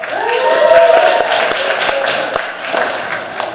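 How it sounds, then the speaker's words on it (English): A theatre audience at a Christmas Carol stage show applauds a guest performer, a moderate burst of clapping that swells and fades, with a voice heard over it. "So please give him a round of applause."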